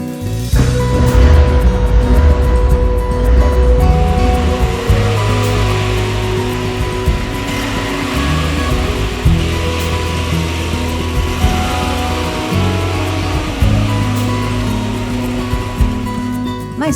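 An old car driving on a highway between São Paulo and Campinas, a steady, loud engine drone with broad road and wind rush filling the cabin, continuous and unbroken throughout with no talk.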